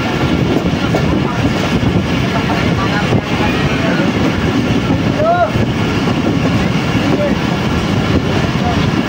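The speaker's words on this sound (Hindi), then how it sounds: "तो इस वक्त हमारी ट्रेन नाला कूट रेलवे स्टेशन को स्किप कर रही है।" A passenger train runs through Nala Koot railway station without stopping on the Sahiwal to Lahore route, giving a continuous close rumble with rhythmic clatter and faint squeals from the wheels.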